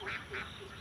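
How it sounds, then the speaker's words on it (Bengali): Khaki Campbell laying ducks give two loud, raspy quacks, evenly spaced, with a fainter third call trailing after them on a rural duck and fish farm. "ক্যামেলিয়া ডিমের হাঁস"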